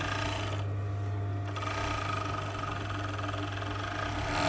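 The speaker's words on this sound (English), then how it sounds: "you can just start the overlocking from the notch" An overlocker running steadily along the vent seam of an unlined jacket, a continuous mechanical hum and whir that holds near and constant throughout, with no talking over it.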